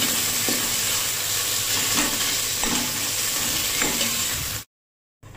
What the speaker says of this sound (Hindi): अभी इसे अच्छी तरह से मिला देंगे।